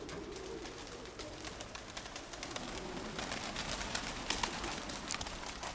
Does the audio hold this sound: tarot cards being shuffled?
no